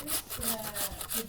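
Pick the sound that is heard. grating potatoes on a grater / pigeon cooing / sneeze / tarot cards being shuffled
grating potatoes on a grater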